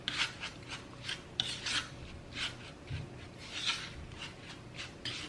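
Shredded Parmesan is stirred into a dry breadcrumb mixture, giving a soft, repeated scratchy rasping and rubbing close by, in uneven strokes with no talk.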